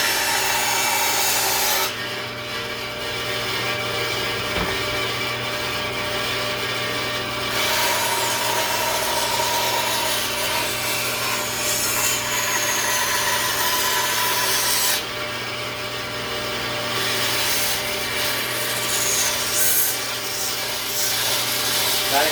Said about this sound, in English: So I can turn it on my bandsaw.